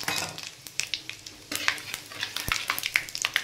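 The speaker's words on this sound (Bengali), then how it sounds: "কড়াতে তেল দিয়ে দিয়েছি, তেলটা গরম হয়ে গেছে। এবার আমি এর মধ্যে ফোড়ন দেব, 3 টুকরো তেজপাতা, 3 টুকরো শুকনো লঙ্কা আর 1 চামচ 5 ফোড়ন" Bay leaf pieces, dried red chillies and a spoonful of panch phoron sizzle in hot oil in a kadai, a steady hiss broken by sharp pops and metal spoon scrapes as they are stirred.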